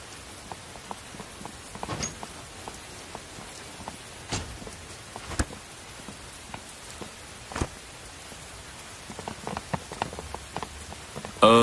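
Steady rain falls in a Thai-dubbed Chinese drama scene, a continuous close patter on surfaces with scattered sharper drops and no voices.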